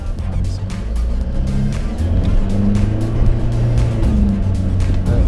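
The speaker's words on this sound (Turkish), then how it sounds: "Ve aynı zamanda ön lastikler tırmanırken gaza basacağız." Off-road vehicle climbing a steep slope with the throttle held open, its engine roaring loud and close with steady strain, plus rough rattling and crunching from the tyres on the terrain.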